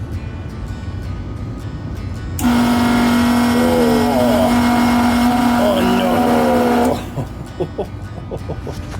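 A faulty furnace fan motor starts up with a loud steady hum and whine that runs for about four and a half seconds and then cuts off, with people talking around it.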